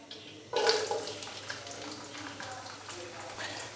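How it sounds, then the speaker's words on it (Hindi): Finely chopped onion hits lightly heated oil with a sudden sizzling burst, then settles into a steady, moderate frying crackle that continues to the end. "ऑयल को हमने हल्का सा गर्म कर लिया है, तो अभी मैं इसके अंदर एक प्याज नॉर्मल साइज़ का बारीक कट"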